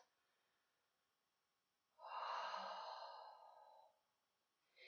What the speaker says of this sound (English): Breathe, steady, even breath.